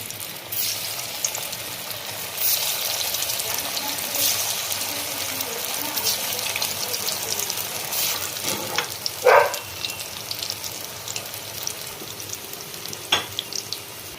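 Soybean kofta balls deep-frying in oil, a continuous crackling sizzle heard up close for a long stretch, with a few sharper spatters and a brief scrape partway through.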